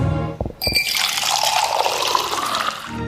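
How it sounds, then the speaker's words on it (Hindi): Ganga water poured from a vessel into a glass at a stage performance at a school annual function, a steady splashing pour lasting a few seconds after a brief clatter. "गंगा जल लाए हो ठाकुर? हाँ सरकार। एक गिलास दो।"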